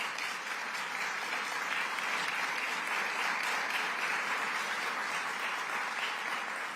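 Dense, steady applause from a large audience at a New York state government press event, sustained and even throughout without breaks.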